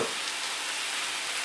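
Steady, loud sizzling of spice-rubbed food frying in a hot frying pan, a continuous hiss with no pauses and no talking.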